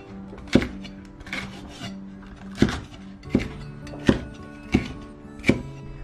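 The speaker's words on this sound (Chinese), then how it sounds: "用刀把它们一分为二，然后呢，把青椒我们给切成菱形状" A knife chopping a halved green pepper into diamond-shaped pieces on a cutting board, six or seven crisp evenly spaced thuds close up, with no talking.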